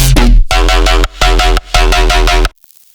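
A punchy jump-up drum and bass synth bass made in Serum plays short chopped notes in a steady rhythm, with the pitch gliding between them; loud and up close, ending abruptly.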